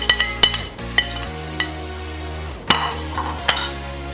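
Garlic being stirred into a lamb chop marinade in a bowl, with a series of sharp utensil clinks and taps against the dish at an irregular rhythm, close and fairly loud, with no talking.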